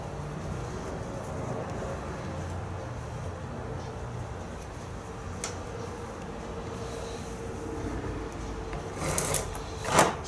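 A sewing machine runs a continuous seam on a quilt block, giving a steady, even whirr for several seconds before a few sharper clicks near the end.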